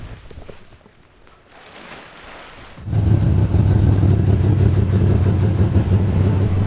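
A 1984 Ford Sierra XR8 engine starts up loud and close after a few quiet seconds, then runs on with a steady, rumbling idle.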